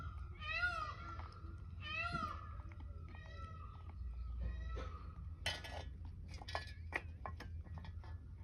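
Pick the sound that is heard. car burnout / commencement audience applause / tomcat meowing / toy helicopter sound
tomcat meowing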